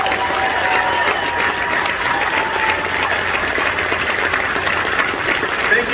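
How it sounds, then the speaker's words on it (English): An outdoor crowd at the Neshoba County Fair applauds to welcome Congressman Dan Crenshaw, a sustained roar of clapping with some cheering mixed in, loud and steady across the whole stretch. "please join me in giving a round of applause and a warm welcome to Congressman Dan Crenshaw"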